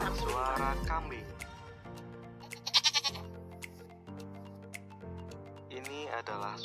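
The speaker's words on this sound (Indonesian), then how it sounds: "Ini di 6 adalah suara kambing." Goat bleating sound effect added in CapCut, a short wavering bleat with a quick stuttering pulse, played over ticking and a music-like tone bed, with brief voice bits at the start and end.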